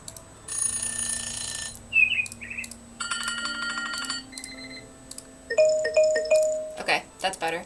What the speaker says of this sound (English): I was testing the time's up sound effects because the kitchen timer or whatever that was the default.